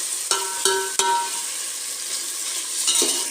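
Tomatoes fry in hot oil in a pan while being stirred for an ivy gourd palya, a steady close sizzle with a few sharp utensil scrapes and clinks against the pan early on.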